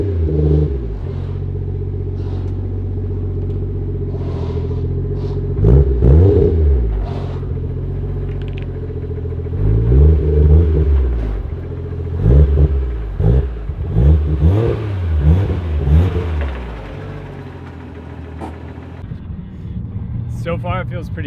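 A Toyota JZX100 engine rumbles low inside the car while driving, with repeated revving surges that rise and fall several times, plus occasional clatter and some talk over it.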